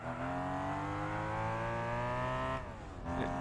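BMW M3 CSL engine in the Gran Turismo 4 racing game, roaring loud and steady at high revs, then dropping pitch twice as gears change, with no talk over it.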